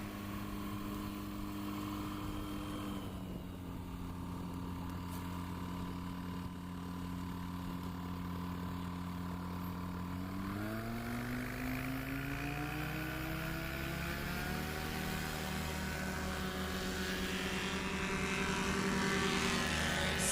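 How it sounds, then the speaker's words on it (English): A light propeller plane, a Chinook aircraft, taxis at an airport fly-in practice, its engine a steady droning hum that rises in pitch partway through as power increases, distant and continuous. "Dan Reynolds now taxiing up to the line in the Chinook"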